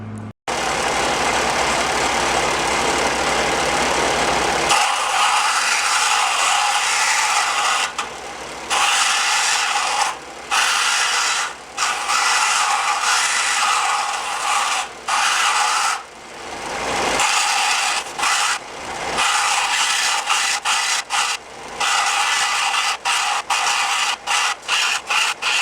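Power grinder cutting away the centre hole of a metal washer for a K&N high-flow air filter fitted to a Royal Enfield Continental GT 650, a loud, harsh continuous whine interrupted by several brief pauses, with no talk.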